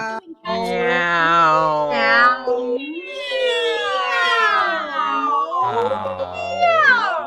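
Several people imitate cat meows with their voices, sliding through vowel sounds in long, wavering pitched calls that overlap and rise and fall, loud and close, filling the whole stretch almost without pause.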